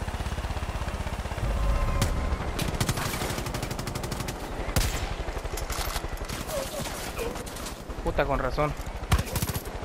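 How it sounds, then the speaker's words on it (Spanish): Rapid bursts of Far Cry 5 gunfire, repeated sharp double shots in quick succession, loud and close, with someone talking briefly over the shooting. "Eran dobles disparos."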